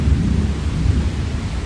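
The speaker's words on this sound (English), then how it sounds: "there's lightning and thunder going on" Thunder rolls in a deep continuous rumble during a thunderstorm, loud and enveloping, with rain noise washing underneath and no voices.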